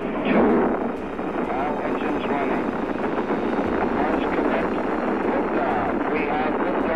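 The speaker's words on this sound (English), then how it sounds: "we have ignition sequence start. Engines on" Apollo 10 rocket engines igniting on the launch pad, a loud, steady broadband roar that holds for several seconds, with a public-address voice counting down over it.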